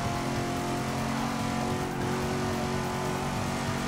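Race car engines roar steadily in Forza Motorsport 6, a dense, continuous high-revving drone from several cars racing close together at a constant loud level, with no speech.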